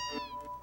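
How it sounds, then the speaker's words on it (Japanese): A single short cat meow from the video game Final Fantasy VII, clear and tonal, heard alone against quiet game background. "あ、猫ちゃん。"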